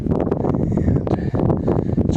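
Strong wind gusting across a steep mountain slope near a ridge crest at Mount Rainier, a loud continuous buffeting roar hitting the microphone close up, with no pauses.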